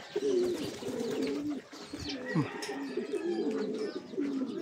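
A young bird, apparently a pigeon or dove, gives repeated soft cooing calls close by, with brief rustles and a gap partway through.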